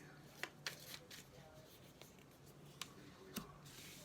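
Tarot cards handled during a reading, with a few soft, quick card flicks and snaps over a quiet room background.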